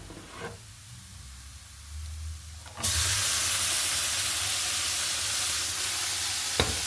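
Long beans for a Kerala achinga thoran drop into a hot pan, and a loud, steady sizzling hiss erupts suddenly and carries on evenly to the end, with a faint clink just before it.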